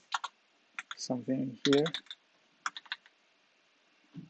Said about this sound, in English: And now if you try to type in something